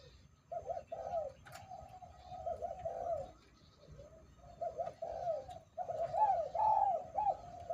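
A dove coos from a communal cage in a series of soft, rounded calls in repeated bursts with short pauses, fairly close and alone with no talk.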